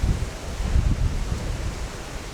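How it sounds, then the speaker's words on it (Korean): Strong wind blows steadily across a Caribbean beach in Cuba with heavy surf, producing a loud, continuous rumbling roar with gusty swells and no voices. "얼마나 바람이 불고 있는지 아시겠죠?"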